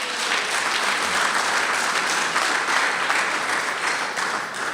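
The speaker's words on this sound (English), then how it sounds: "give him a clap" Audience at a St. George North Branch meeting clapping, a steady, dense burst of applause that carries on evenly throughout, no voices rising above it.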